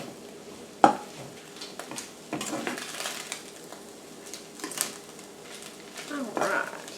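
Sausage and flour gravy cooking in a pan makes a soft, steady sizzle, broken by a sharp utensil clack against the pan and stirring scrapes, with a voice talking over it.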